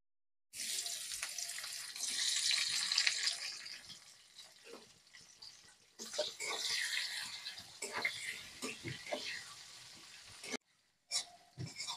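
Chopped onion dropped into hot oil in a pan while making green chilli chicken, a loud, steady hissing sizzle that swells early on, then settles into an uneven crackle with brief drops and short gaps near the end.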